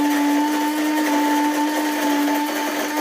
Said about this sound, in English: It's going to be a little noisy because it's going to grind the beans.